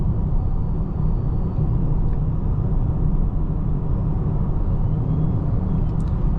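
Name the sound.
plug-in hybrid SUV driving on main road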